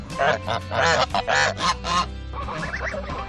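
Several geese honk loudly nearby in a rapid string of harsh, nasal calls, followed by softer, scattered honking.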